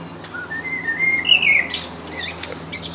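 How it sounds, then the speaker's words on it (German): Birds singing in a forest, a few clear whistled chirps and trills standing out close by against a quiet, steady background hum. "Vögel hört man auch."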